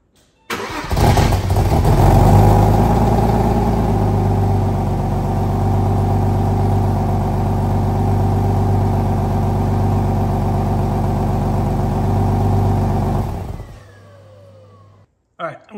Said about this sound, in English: Stock exhaust sound, take two.